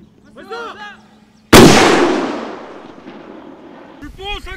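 A ROK Army mortar fires during live-fire training: one sudden loud blast that rolls off into a long echoing decay. Shouted commands come just before the blast and start again just after.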